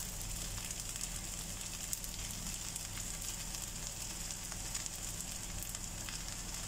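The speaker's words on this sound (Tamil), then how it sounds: "நூடுல்ஸை எல்லா மசாலா கூடயும் நல்லா கிளறி விட்டுட்டு நம்ம எடுத்து வச்சிருக்கிற முட்டையை இதில் சேர்த்துடலாம்" Rice vermicelli noodles sizzle in a pan while being stir-fried with masala before egg is added, a faint, steady hiss of frying with no voices.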